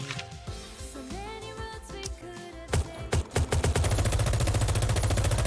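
Rapid gunfire in the video game Goddess of Victory: Nikke, starting with a few scattered shots and building into a fast, continuous stream of loud, evenly spaced rounds over musical game audio.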